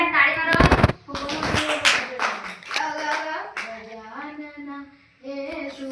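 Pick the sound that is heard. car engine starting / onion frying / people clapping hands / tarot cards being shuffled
people clapping hands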